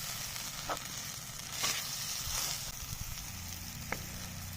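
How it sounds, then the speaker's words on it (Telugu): Mutton curry fries in oil in a pan, giving a continuous, fairly close sizzle with a few brief spatters and light stirring clicks. "ఇక ఇట్లా ఒక 10 నిమిషాలు ఇట్లా నూనెలనే ఫ్రై చేసుకుందాం."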